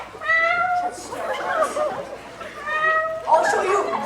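A cat lets out two drawn-out, wavering meows close by, each followed by overlapping human chatter and voices talking, the cries loud and whiny against a quiet indoor background.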